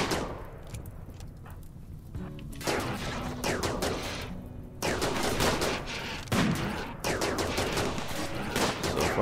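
Sustained bursts of rapid gunfire crackle through a RimWorld firefight, dense volleys repeating in waves with short lulls between them, loud and close.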